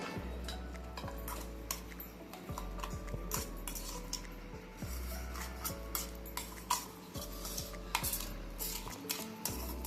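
Coarsely ground corn paste is scraped out of a grinder jar into a large bowl, with repeated metallic clinks and scrapes of a spoon against the container, fairly steady and close over a low motor-like hum.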